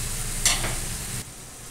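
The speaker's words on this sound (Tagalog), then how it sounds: "Antayin natin kumulo." A pot of soy sauce and vinegar braise bubbles and sizzles as it comes to a boil, with a brief scrape of stirring partway through. No one speaks.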